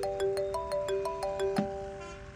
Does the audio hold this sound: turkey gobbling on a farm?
no